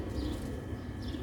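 Sialkoti pigeons cooing nearby, soft low burbling coos repeated in a steady murmur against a quiet background, with a couple of faint higher chirps.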